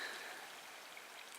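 A river flowing through an autumn forest gives a faint, steady watery hiss with a light trickling texture, heard alone and from some distance.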